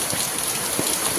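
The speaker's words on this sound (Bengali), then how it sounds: "দেখো বন্ধুরা কি মুষলধারে বৃষ্টি হচ্ছে" Heavy monsoon downpour, a dense, steady broadband hiss of rain hitting surfaces close by, constant and loud without pauses or voices.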